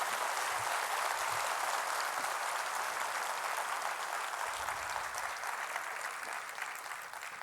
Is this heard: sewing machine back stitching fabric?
no